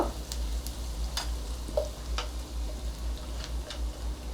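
Cumin seeds and a pinch of asafoetida frying in two or three spoonfuls of hot oil for tempering, a steady close sizzle with small crackles and pops, no talking.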